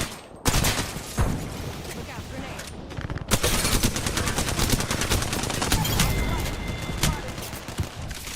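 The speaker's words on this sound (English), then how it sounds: "Is this dude shooting me with a P-20 from across the planet?" Pistol gunfire in the Apex Legends video game, with a P2020 firing from far away, loud crackling shots in quick bursts that become a dense, continuous volley with scattered impacts.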